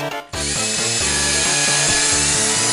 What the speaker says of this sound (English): Apologies about the drilling.